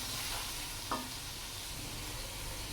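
Tinda and chana dal with turmeric and spices being mixed in a pan, heard as a quiet, steady low sizzle with one brief scrape of the spoon partway through.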